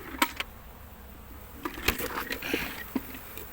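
Honeybees at an open hive hum faintly and steadily, with a few brief louder buzzes as single bees pass close, under soft handling noise and no talking.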